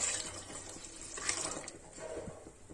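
Water poured from a tap or vessel into a pot of cooking chana dal payasam with sago, a soft steady splashing stream close by that lasts a few seconds alone.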